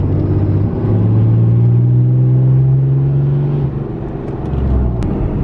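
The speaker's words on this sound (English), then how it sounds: "How'd you guys like my poor attempt at a burnout, by the way?" A car with a manual transmission and a new clutch revs hard in an attempted burnout, the loud engine drone holding steady for several seconds before dropping and rising again, with no talk.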